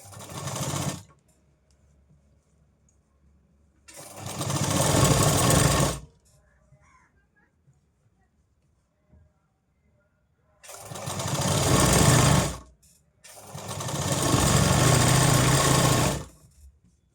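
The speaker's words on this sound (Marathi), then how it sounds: "इथून आपण शिलाई मारून घेणार आहेत" Electric sewing machine stitching a katori blouse, running in four bursts of rapid, whirring stitches, each lasting one to two seconds, separated by quiet pauses.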